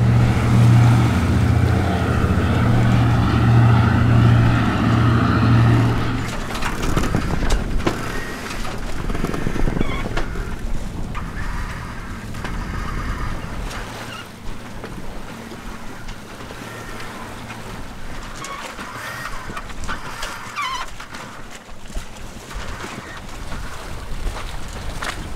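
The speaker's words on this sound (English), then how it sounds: "we've sailed a lot of miles in this boat already" A sailboat under sail at sea with a small extra sail raised: steady wind and rushing water along the hull, with a low engine-like hum fading out in the first seconds, then a broad churning wash.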